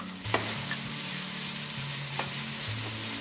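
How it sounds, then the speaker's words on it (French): Bacon lardons browning in a frying pan, a continuous loud sizzle with occasional stirring scrapes, close up and with no voices. "Pendant que les lardons sont en train de dorer"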